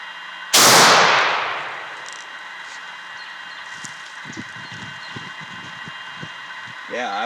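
A single loud shotgun blast fires close by, its report decaying over about a second, followed by quiet handling noises and a brief voice near the end.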